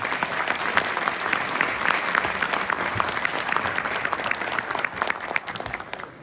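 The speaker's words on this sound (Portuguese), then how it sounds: "Palmas para vocês." An audience at a Brazilian audio immersion event, SemanÁudio 2023, applauds in a steady, dense roar of many hands clapping that continues throughout and eases slightly at the very end.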